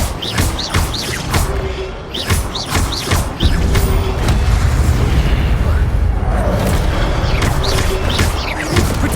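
Incendio fire spells being cast in Hogwarts Legacy, with repeated booming fiery bursts and whooshes over ongoing game effects and background music.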